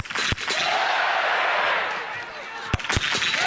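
Spectators cheering at a women's biathlon sprint race in Östersund, Sweden, a broad sustained roar with a few sharp knocks, likely rifle shots, near the start and end.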